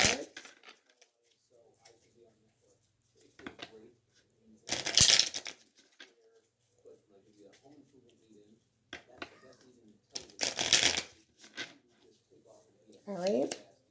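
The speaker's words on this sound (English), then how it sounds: "I'm going to pull some Island Time wellness cards." Island Time wellness cards are shuffled in two loud bursts of rapid riffling, each lasting about a second, with softer card handling and a few quiet murmured words in between.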